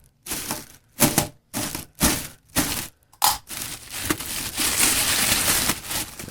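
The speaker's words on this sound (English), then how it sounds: "See if we can get this plastic off." Plastic wrapping being pulled and torn off a Lotos LTP5000D plasma cutter, a series of loud, close crinkling rips in separate bursts, then a longer continuous rustle of crumpling plastic.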